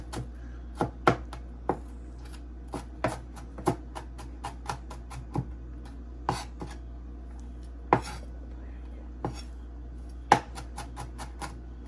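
Knife mincing food on a cutting board, sharp irregular chops and taps close by, quiet between strikes with a low steady hum underneath, no talk.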